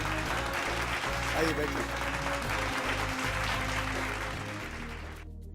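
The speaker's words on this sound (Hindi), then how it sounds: "जोरदार तालियां इनके लिए" A television studio audience applauds in a continuous, moderately loud wash of clapping that fades out at the end, while a host speaks over it.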